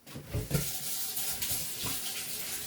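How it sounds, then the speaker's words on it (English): Tap water runs steadily into a sink while canning equipment for homemade tomato sauce is rinsed, a continuous splashing hiss with a couple of heavier splashes early on. "I'm going to rinse this off."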